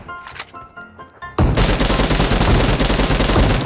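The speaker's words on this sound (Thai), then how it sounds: "โอ้โห ปืนใหม่ เสียงมันกร้าวใจจริงครับ" Sustained automatic fire from an M4 rifle in the PUBG Mobile shooter game, a dense loud burst of rapid shots starting abruptly after quieter in-game sounds and continuing to the end.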